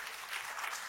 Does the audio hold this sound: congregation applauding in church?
yes